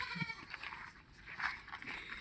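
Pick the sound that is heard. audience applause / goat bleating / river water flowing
goat bleating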